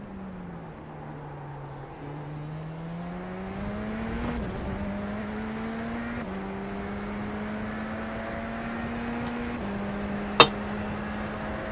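Race car engine in the iRacing sim, SR10 car, droning steadily with rising and shifting pitch through gear changes over a lap, a sharp brief click near the end, no talk.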